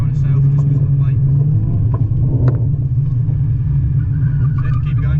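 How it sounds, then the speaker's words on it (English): A heavy supercar slides through a drift on a track, its engine holding a deep, steady rumble that stays loud throughout while people talk over it. "And car will slide a lot here on itself just because of the weight."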